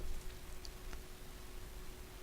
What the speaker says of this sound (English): it is daytime, although it's raining